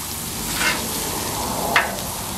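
Whiting and salmon fillets fry on a Blackstone griddle with a steady close sizzle, broken by two brief scraping or flipping sounds, with no talking.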